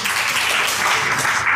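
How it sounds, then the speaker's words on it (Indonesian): Audience applause at an Indonesian talk event on inner-child healing, a steady dense wash of clapping heard close and sustained with no pauses. "kita tepuk tangan buat Kohen."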